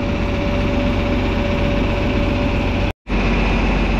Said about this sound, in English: Nothing sure beats a 40-20. That's a good combination,